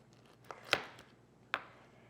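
A knife slicing through a pineapple on a cutting board, with two sharp close cuts and a fainter tap before them, in a quiet room.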